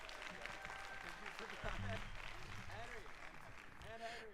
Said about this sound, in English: Let's give all three of them a round of applause.